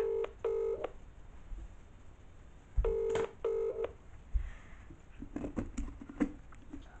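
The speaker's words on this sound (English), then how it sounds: "you know I need to phone somebody else who keeps telling me to phone them" Electronic telephone keypad dialing tones: two quick bursts of steady beeps near the start, a second cluster a few seconds later, then softer scattered beeps, with no talking.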